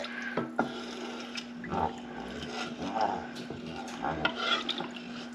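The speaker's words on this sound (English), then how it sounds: "So we're just gonna sit here and we're gonna continue to stir." A spoon works through mac and cheese sauce in a pot, making soft, irregular scrapes and occasional light clinks over a low steady hum.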